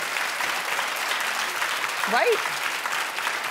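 A studio audience claps at a talk show, dense sustained applause filling the whole stretch at an even level, with a brief spoken word from a voice cutting through partway in.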